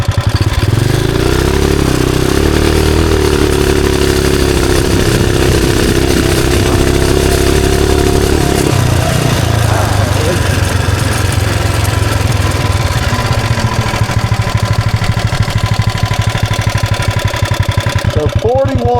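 420cc big block mini bike with a CVT on a top speed run, a loud continuous engine roar rising in pitch then holding steady, with wind buffeting and a voice briefly over it.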